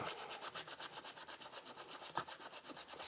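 Steady back-and-forth rubbing of sandpaper over a wooden sign made with a Milescraft Sign Maker Pro, a quick regular rhythm of strokes with one sharper scrape near the end, close and fairly quiet.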